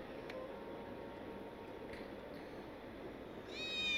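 Cat meowing in the Final Fantasy VII Remake video game, a short, fairly faint meow at the very end over a steady ambient background hum.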